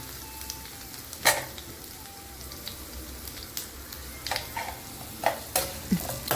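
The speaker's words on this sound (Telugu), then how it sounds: "చిటపటలాడే చిటపట అనే సౌండ్ వచ్చినప్పుడు మనం ఇక్కడ నేను ఇప్పుడు కరివేపాకు వేసుకుంటాను" Curry leaves and taro frying in hot oil for an Andhra-style taro fry, giving scattered sharp crackles and pops over a low steady sizzle, with no voices.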